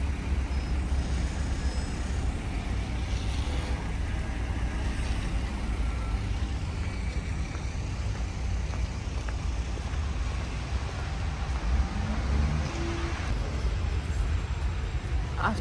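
Street traffic at a bus stop in Almaty, a steady broadband roar of passing vehicles and engine rumble with a few faint tonal beeps, loud and continuous with no clear talking.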